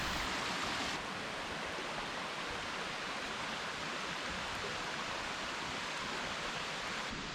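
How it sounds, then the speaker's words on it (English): Rushing water of a waterfall at Beaver Creek on the Lower Columbia, heard from the top of the falls as a steady, loud, broadband roar with no other sounds throughout. "I'm on top of the waterfall"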